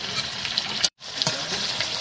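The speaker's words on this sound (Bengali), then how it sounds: "এখন মাংস কষাচ্ছি" Chicken meat being stir-fried in a pan for a Bengali curry gives a steady broadband sizzle, close and moderately loud, with a brief stirring clatter and a moment of near silence in the middle.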